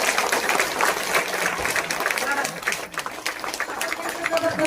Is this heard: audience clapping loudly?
yes